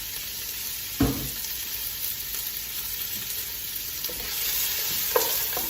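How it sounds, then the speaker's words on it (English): Carrots and frozen peas are stirred in a pan for shepherd's pie, a steady sizzle of frying running throughout with a couple of sharp utensil scrapes against the pan, close and alone without talk. "we're just gonna stir that up and let it cook until your carrots"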